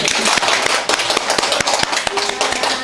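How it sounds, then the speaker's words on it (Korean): Applause from a church congregation at a New Year's Eve service: a burst of loud, dense clapping with sharp individual claps throughout. "박수"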